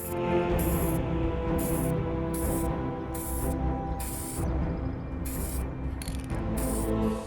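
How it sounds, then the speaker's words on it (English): A spray can of clear semi-gloss coat hisses in repeated bursts, short pulses of aerosol spray separated by brief pauses, over a steady mechanical background hum. "I decided to spray on a protective layer of clear semi-gloss"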